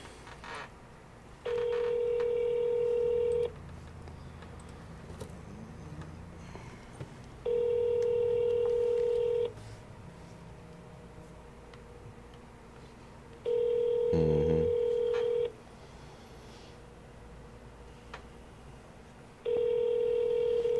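An outgoing phone call rings out: four evenly spaced ringback tones, each about two seconds long, separated by quiet gaps. A short burst of keypad dialing tones cuts in around the third ring.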